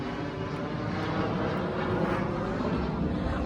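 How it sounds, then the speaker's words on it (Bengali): An airplane passes over a house near an airport, a steady, broad engine roar filling the scene throughout at moderate loudness with no other sounds standing out. "আম্মুর বাসার পাশে দিয়ে অলওয়েজ প্লেন যায়, কারণ আমাদের বাসার কাছেই একটা এয়ারপোর্ট আছে।"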